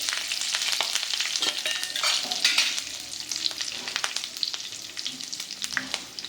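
Spices, curry leaves and turmeric for a lentil chutney tempering crackle and sizzle sharply in hot oil, loud and close, with bursts of popping that gradually settle into a steadier fizz.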